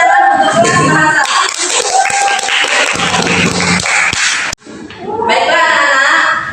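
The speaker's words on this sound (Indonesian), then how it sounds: "Tepuk tangan untuk kelas bahasa." A classroom of students claps together in a dense burst of applause that runs for several seconds, and a teacher speaks over it just before and after.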